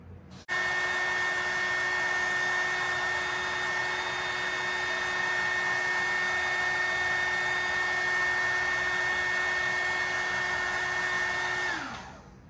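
A heat gun shrinks heat shrink tubing over amp wiring for a 1985 Chevy amp rack, producing a loud, steady fan-and-element whine with a fixed tone that runs for about eleven seconds, then winds down at the end.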